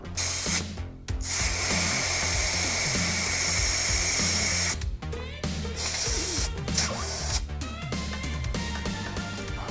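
Loud bursts of hissing air start and stop several times, with clicks and handling noises between them, as an ARB air compressor inflates a 32-inch BFGoodrich KO2 tyre.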